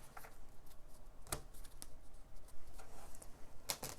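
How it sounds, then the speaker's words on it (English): Thick tarot cards being shuffled by hand, giving soft papery riffling and flutters with a couple of sharper snaps near the start and end, close and fairly quiet, with no voices. "I don't usually shuffle these cards a lot because they're very, like, thick"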